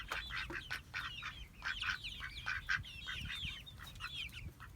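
Young chicks of mixed breeds, Buff Orpington, Leghorn and Barred Rock, peeping in a busy overlapping chorus of high chirps that keeps going throughout, close by and fairly quiet.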